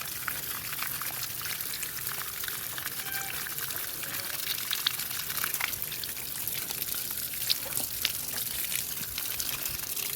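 Water from a tank pours onto soil around an asparagus plant being dug up, a steady hissing splash with scattered drips running continuously at moderate volume.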